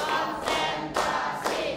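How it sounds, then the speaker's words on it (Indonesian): Rhythmic hand clapping in a classroom counting game, a group clapping together in loud, evenly spaced bursts about every half second. "Tepuk 1, tepuk 2, tepuk 3, tepuk 4"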